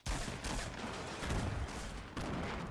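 Dense gunfire crackles without pause in a video game battle, a steady wash of overlapping shots at mid distance with no talking over it.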